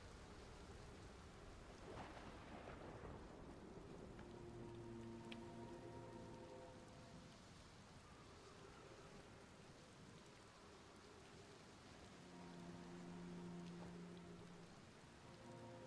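Thunderstorm rain pours steadily on a planet in the game Outer Wilds, a dense hiss of falling drops with a thunder crack early on and faint low musical tones drifting underneath.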